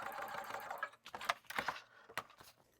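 A sewing machine bastes a seam on a fabric dopp kit, running in short bursts of rapid stitching separated by brief pauses, close and clear with no talk.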